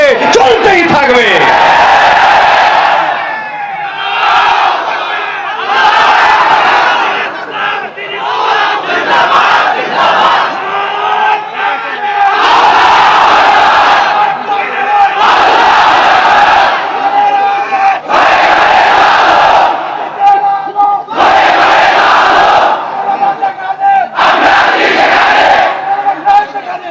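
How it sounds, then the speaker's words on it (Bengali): A large crowd at a Bengali religious sermon (waz) chants the Allahu Akbar slogan in loud, repeated massed bursts separated by short pauses, the voices roaring together near and powerfully throughout. "এই আল্লাহু আকবারের স্লোগান চলতেই থাকবে, চলতেই থাকবে, চলতেই থাকবে"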